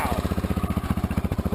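A 1983 Honda XL600R single-cylinder engine with freshly overhauled dual carburetors idles on its own, thumping in a quick, even, steady rhythm close up.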